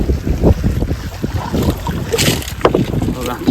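Steady wind buffets a traditional fishing boat at sea off Devbag, Malvan, a continuous broadband rush with choppy gusts and water movement throughout, loud and close to the microphone.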